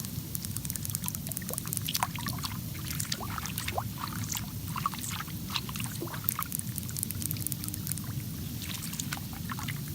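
Fingers tap on the water of a pool-tiled jacuzzi, giving quick, close, wet plinks and splashes scattered over a constant low rushing of bubbling water.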